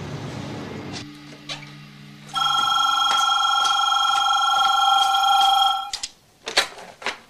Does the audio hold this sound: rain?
no